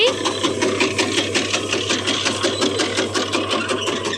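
An electric chaff cutter runs with a rapid, regular chopping clatter over a steady motor hum, loud and close for the whole stretch.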